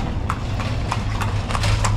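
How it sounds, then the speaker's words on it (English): Hooves of a horse pulling a carriage through a street in Merida, Mexico, a steady clip-clop of regular hoof strikes over a low rumble of traffic and ambient noise, moderately close. "You can get a horse carriage ride here."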